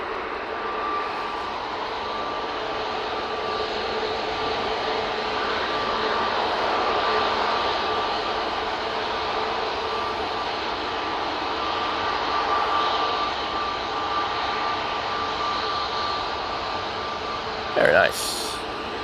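A KLM Airbus A321neo jet heading to Amsterdam Schiphol gives off a steady, fairly distant engine roar at Manchester Airport, continuous and even, with a brief sharp noise close by near the end.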